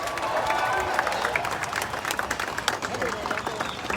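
Applause and cheering from a crowd at an outdoor reparations rally, a dense wash of clapping with scattered shouts and crowd babble running steadily throughout.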